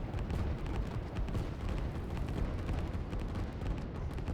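Artillery pieces firing in the strategy video game Line War, a dense continuous rumble of booms and blasts layered over one another at moderate loudness with no clear breaks.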